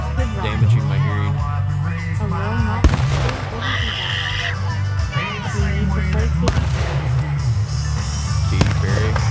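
Fireworks go off on a July 4th night, with sharp bursts and crackling pops over a steady low rumble and music, several distinct bangs spread through the stretch.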